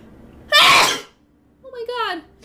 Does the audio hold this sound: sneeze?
yes